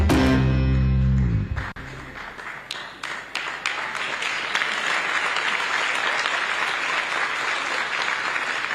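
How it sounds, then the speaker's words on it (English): Applause from a crowd starts with a few scattered claps and swells into steady, sustained clapping. "Please continue clapping."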